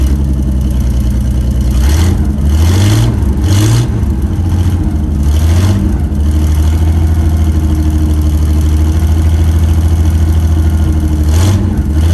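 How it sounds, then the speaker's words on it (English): A 1975 Chevy C10 work truck V8 with an unadjusted carburetor runs loud and close, idling roughly with several quick revs early on and another near the end, then settling into a steady throbbing idle. "it'll fire right up. Then warm up a little bit."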